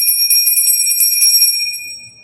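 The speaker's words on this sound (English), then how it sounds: "And then I also like to ring a bell." A small bell rings during a Wiccan ritual, close and bright, its high sustained tone shimmering with quick repeated strikes before fading slightly at the end.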